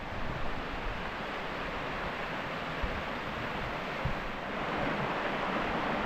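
Javornik waterfall on the Javornik stream near Jesenice, a steady broadband rush of falling water heard close and continuous, mixed with some wind noise and no talking.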